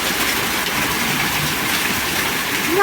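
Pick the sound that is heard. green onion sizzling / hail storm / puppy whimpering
hail storm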